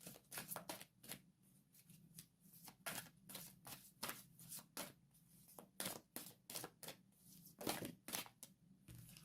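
A deck of tarot cards is shuffled by hand in quick, crisp riffling bursts separated by short pauses, close and clear with no talking.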